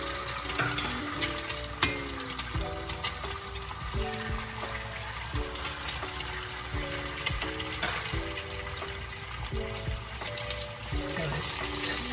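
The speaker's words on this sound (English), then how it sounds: "2 eggs going right into the bacon grease" Two eggs frying in bacon grease in a pan, a steady crackling sizzle throughout with faint stirring and a soft tonal melody playing underneath.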